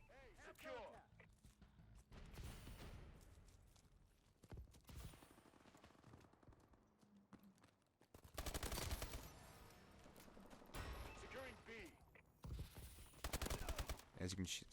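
Rapid bursts of video game gunfire, fast at first and then slowing, come in loud clusters with brief gaps between volleys, mixed with game sound effects and some talk.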